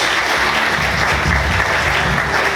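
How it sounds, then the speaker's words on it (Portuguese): Church congregation applauding during a worship service, loud sustained clapping filling the room, with a low rumble underneath. "Vamos aplaudir Jesus bem forte, queridos"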